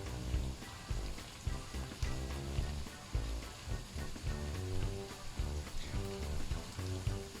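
Ground meat and cabbage sizzling in a pan for a cabbage casserole, a steady, dense crackle that runs throughout at moderate volume with no voices.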